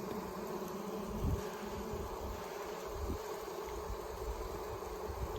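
Honey bees buzz steadily throughout a hive inspection, a dense continuous drone close by with a few louder swells as insects pass near.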